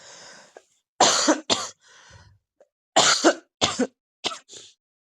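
A man coughs repeatedly during a washing machine wiring job, with several sharp, loud bursts spaced by short pauses and a softer throat-clearing sound in between. No speech accompanies them.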